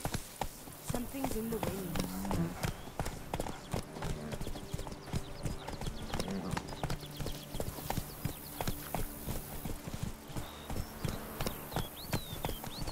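Roach, the horse in The Witcher 3, gallops in a steady rapid clatter of hooves under game music, with a brief whinny and someone speaking over part of it.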